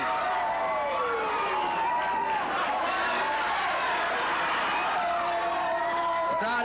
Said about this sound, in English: The crowd enjoyed it so much, so did Debbie